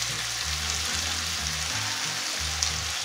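Onions sauté in a pan with a soft, even sizzle for a few seconds, while a low rhythmic hum pulses underneath and no one speaks.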